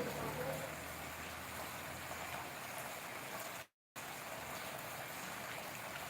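Steady rain hisses evenly throughout, a dense wash of drops with no talking, broken only by a brief dropout of total silence near the end.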